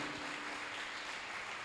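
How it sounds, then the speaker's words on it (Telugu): A church congregation claps loudly in a dense, continuous wash of applause that carries at even strength through the short moment, with no voices over it. "గట్టిగా చప్పట్లు కొట్టి దేవుని మహిమ పరచుకుందాం"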